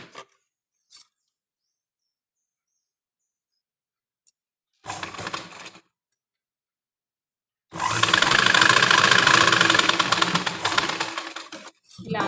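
A sewing machine runs in a steady mechanical burst, stitching a blouse made from a saree, after shorter start-stop runs earlier; close and fairly loud, with no talk.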